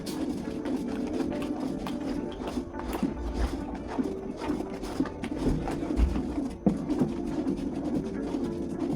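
Homemade toilet cleaner chemicals stirred in a bowl, giving a continuous run of close scraping and clinking strokes with an irregular, busy rhythm and no speech over it.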